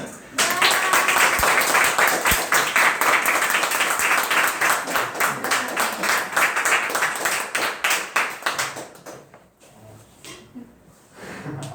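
An indoor audience at a student gathering applauds loudly for about nine seconds; the clapping is dense at first, then thins out and fades to a few scattered claps.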